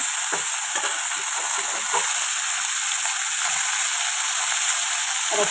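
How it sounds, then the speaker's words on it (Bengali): Small fish frying in hot oil, a loud, dense, steady sizzle close to the pan, with scattered crackles and pops running through it and no pauses. "এই যে ছোটো মাছ কিন্তু ভাজা চলছে"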